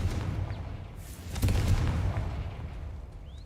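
A Confringo fire-blast spell bursts in Hogwarts Legacy, a booming impact swelling into a rumbling roar that lingers before fading, with a sharper crack early on.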